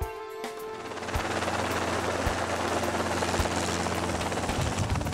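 A training helicopter's engine and rotor roar close and loud in a steady, dense wash with rhythmic blade thumps, rising after the first second and holding throughout.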